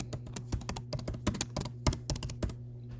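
A computer keyboard clatters as a location is typed in, with crisp, close key presses in quick irregular bursts over a faint steady hum, and no voices.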